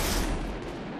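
A terremoto firework's string of firecrackers explodes in a dense, rapid crackling barrage, loud and continuous like gunfire, with the burst slowly easing off.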